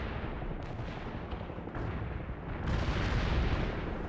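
Artillery barrage in the real-time strategy game World in Conflict, a dense, continuous rumble of distant booms and blasts that swells louder toward the end, with no voices.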